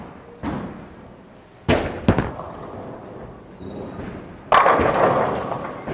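A Storm Phaze 2 bowling ball strikes the pins on a first shot, with a sharp crash near 1.7 s and a second, louder clatter of pins around 4.5 s over a quiet alley backdrop.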